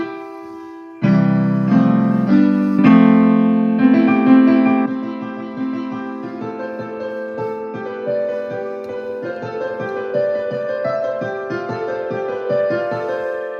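A keyboard plays sustained major chords, moving between the I, IV and V harmonies, then settles into a rhythmic pattern of repeated chords.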